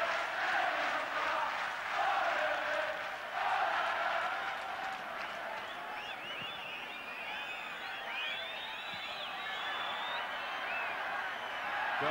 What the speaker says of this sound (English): Belgian crowd beginning to whistle for time up.